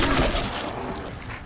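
Gunfire in Fallout 4 crackles as a dense, loud volley of shots that runs across the whole short moment, close up with no talking over it.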